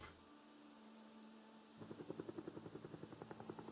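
A helicopter passes in the survival game Project Zomboid, a steady engine drone that turns into a loud rhythmic rotor chop about halfway through, the blade thumps pulsing evenly and clearly as it draws near.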